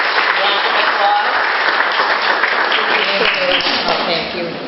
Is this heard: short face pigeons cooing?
no